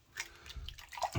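Water splashes and drips in uneven bursts as shaving soap lather from a Murphy & McNeil Rose Moon soap is rinsed off a bearded face, close and fairly soft.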